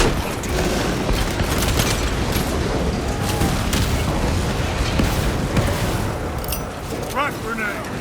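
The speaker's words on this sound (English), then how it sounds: "Frag grenade!" Frag grenade blasts and heavy weapon fire in the video game Warhammer 40000: Space Marine 2, a dense, continuous roar of booms and shooting that runs the whole stretch with a voice talking over it.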